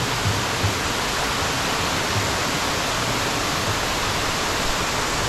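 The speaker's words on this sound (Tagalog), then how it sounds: "Welcome to Tanap Abyss Falls dito sa Ilocos Norte." Tanap Avis Falls in Ilocos Norte pours in a steady, loud rush of falling water that holds unbroken throughout, close by and with no voices.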